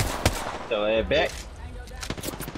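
Rapid gunfire from the battle-royale game Apex Legends, a burst of sharp loud shots with a brief tonal weapon sound in the middle, mixed with game effects and some talk.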